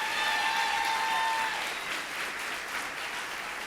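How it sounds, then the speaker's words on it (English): Sustained audience applause for pageant contestants at the Miss Western Hills pageant, a broad steady wash of many hands clapping with a faint tone lingering early on, continuing evenly throughout without speech. "Let's give them a nice round of applause."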